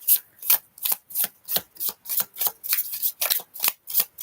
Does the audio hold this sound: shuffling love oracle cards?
yes